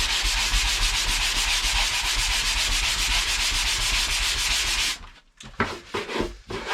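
Steady, abrasive rubbing of sanding drywall joint compound fills most of the clip, loud and continuous, then breaks into a few short scrapes near the end.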